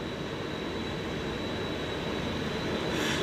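An airplane in an iOS game, played on a MacBook Air through AirPlay, gives a steady, loud engine-like roar that holds evenly for the whole stretch with no one talking.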